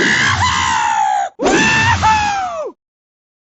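High-pitched cartoon cries of the Han Solo bird character from the Angry Birds Star Wars video game, Facebook version sounds in an early prototype: two loud, close vocal bursts with a short gap between them, with no talking.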